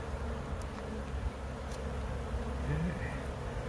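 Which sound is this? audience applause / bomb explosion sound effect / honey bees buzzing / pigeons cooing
honey bees buzzing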